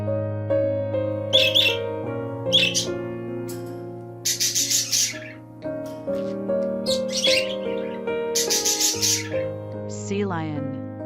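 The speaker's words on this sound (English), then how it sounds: "puffin" Puffin calls: short bursts of harsh squawking calls recur in quick clusters over a steady tonal music bed.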